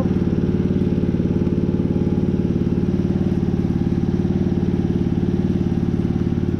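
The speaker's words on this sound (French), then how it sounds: "et on démarre, normalement. On va mettre une vitesse." A lawn tractor mower, bought broken for 200 euros, runs with the choke fully on: a loud, close, steady engine drone with an even rapid throb that holds unchanged throughout, with no talking.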